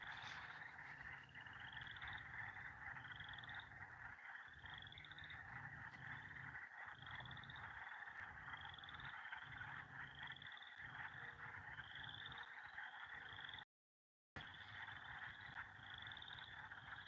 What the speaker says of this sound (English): Can you hear those frogs?